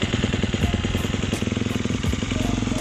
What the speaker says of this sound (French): Et vraiment le gros kiff, le démarreur.